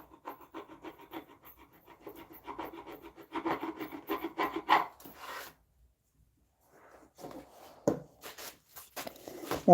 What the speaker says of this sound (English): I'm going to slightly sharpen this bit again, this chisel.